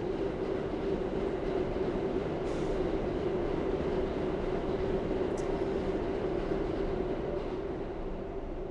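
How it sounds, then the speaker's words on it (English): A train rumbles past nearby, a continuous heavy roar with a steady metallic drone that holds at an even level throughout. "Ah, and a train."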